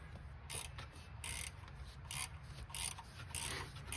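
A ratchet wrench clicks in short bursts while tightening bolts on a Ford Ranger 2.5L thermostat housing, about six quick rasping spurts at a steady pace, close and fairly faint.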